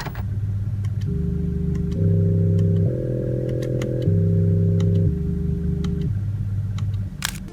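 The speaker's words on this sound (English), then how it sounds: "they go to great lengths to reintroduce the missing engine sound into the cabin artificially" Synthetic engine note played through the cabin speakers of a Ford Mustang, a steady low drone that steps up and down in pitch through several held stages, with faint ticking over it and no talking.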